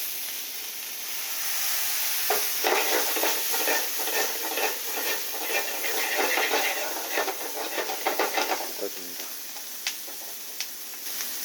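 Vegetables stir-fried over high heat in a hot pan with soy sauce drizzled in give a steady close sizzle and hiss, with scraping and stirring clatter throughout and no talk.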